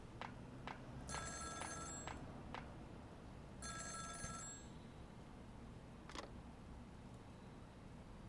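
A telephone rings in the video game Ghost Trick: Phantom Detective, with two faint bursts of bright electronic trilling separated by soft clicks and taps in a quiet scene.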